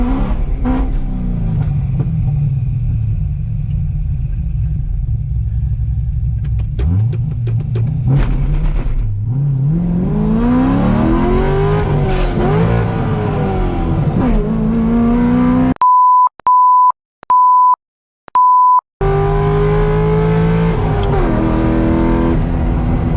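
A 500-horsepower car makes a drag racing pass, its engine droning and revving loudly as it accelerates, with a few sharp electronic beeps near the end before the engine roar returns.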